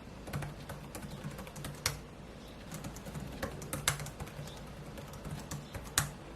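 Steady, quiet clicking of ThinkPad L13 Yoga laptop keys typed at a brisk, even pace, close by, with a few sharper taps standing out and no voices.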